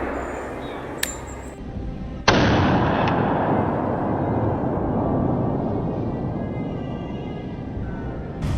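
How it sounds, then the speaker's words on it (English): A single rifle shot fired at a wild boar during a night hunt: one sharp, loud crack, followed by a steady, dense rumble of background noise that carries on to the end. "Trunk Bernie raised his rifle, took careful aim, and pulled the trigger."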